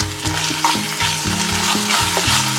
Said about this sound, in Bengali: চিকেনটা কিন্তু ফ্রাই করতে করতেই সেদ্ধ হয়ে গেছে